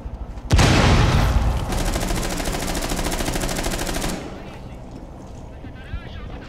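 Automatic gunfire rattles in Rainbow Six Siege during a team deathmatch match, with a sudden loud sustained burst of rapid shots lasting a few seconds before fading into quieter in-game ambience.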